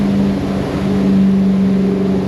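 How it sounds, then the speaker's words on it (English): A car passes by on the street outside an auto repair garage, a low steady engine drone sustained at moderate distance without talk. "That's the same car going by"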